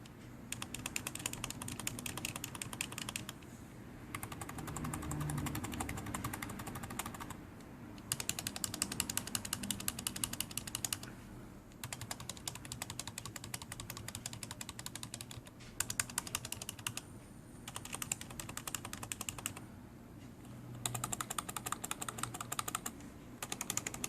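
Quiet, continuous clicking of keys on a Logitech K120 computer keyboard, in bursts separated by short pauses, with no voices.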